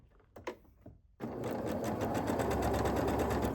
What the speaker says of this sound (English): So we can totally just put them on and sew them together.